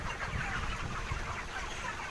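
A crowded flock of broiler chickens presses around a feed pot, giving off a dense, continuous murmur of soft clucks and low chatter that stays fairly even throughout, with no talking.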